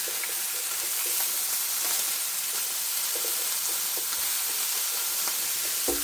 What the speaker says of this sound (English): We're going to add a little bit of oil to our onion. Give it a quick stir.